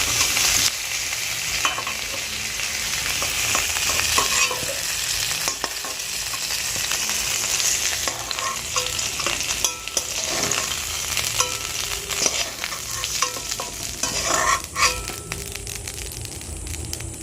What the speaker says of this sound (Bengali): আমার পটলগুলো ভাজা হয়ে গেছে এবার আমি তুলে নেবো